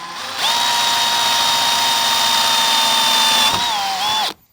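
A power drill bores into the metal body of a vertical pellet smoker, giving a loud, steady high-pitched whine that holds for about three seconds, dips briefly as the bit catches, then cuts off.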